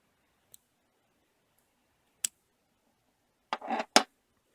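Scissors snip the loose pink and white yarn ends from a crocheted watermelon coaster, a few sharp isolated clicks followed by a short cluster of close snipping sounds against near silence.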